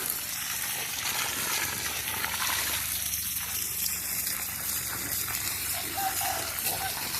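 Water pouring out of a golden apple snail pond, a continuous loud gushing splash that holds steady throughout with no pauses.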